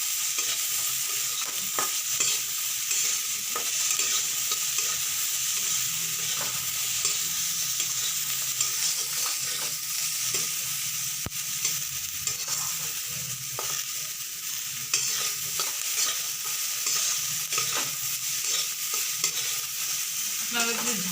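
Dried shrimp fry in a pan with garlic for chingri shutki bata while a spatula stirs through them. A continuous close sizzle runs under frequent scraping and rustling from the stirring.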